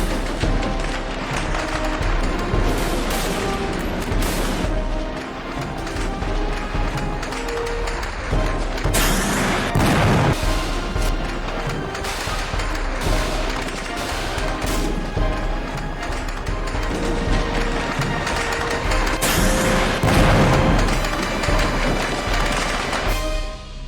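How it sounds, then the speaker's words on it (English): Heavy machine gun and rocket fire roar continuously through a Fallout 4 battle against hidden gunner positions, with loud dense bursts and occasional heavier blasts. "these forces came under heavy machine gun and rocket fire from hidden gunner positions"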